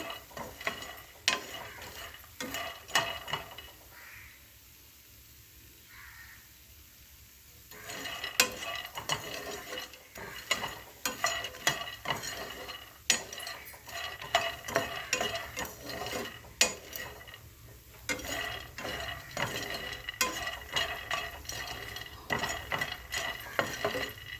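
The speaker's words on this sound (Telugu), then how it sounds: "కొంచెం దోరగా వేగించుకోవాలి." Fox nuts (makhana) roasting in a dry pan, with repeated scraping and stirring strokes and light rattling of the puffed seeds throughout, moderately loud and close, with a brief quieter stretch early on.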